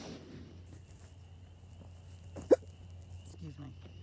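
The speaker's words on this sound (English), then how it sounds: "I got hiccups." A single short hiccup from a person outdoors near puppies and cows, brief and sharp, heard once amid quiet background hum and soft ambient noise.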